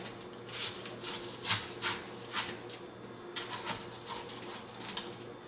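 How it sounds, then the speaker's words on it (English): Knife strokes cutting the excess husk from a Thai young coconut, heard as a series of short dry scraping, rasping cuts at close range with brief pauses between them and no talking. "you just want to simply cut off all this excess"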